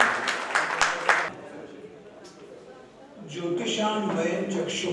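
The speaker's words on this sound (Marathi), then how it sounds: "मी विनंती करतोय विजय जकादार सर यांना टाळ्या वाजून आपण त्यांचं देखील स्वागत" Applause from an audience at a state-level astrology convention, welcoming a guest speaker: a burst of dense clapping for just over a second, then a quieter gap, then renewed sustained clapping swelling up and holding steady to the end.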